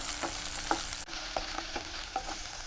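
Okra (ladies' finger) sautéing in a pan while it is stirred, a loud continuous sizzle broken by scraping stir strokes, with no voices.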